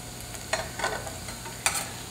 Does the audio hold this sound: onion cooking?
yes